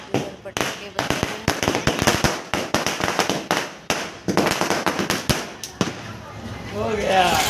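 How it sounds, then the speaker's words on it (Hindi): New Year firecrackers crack in a rapid irregular string of sharp pops, loud and close, with a voice talking faintly toward the end. "देखिए ही कैसे पटाखे बोल रहे हैं नए साल के"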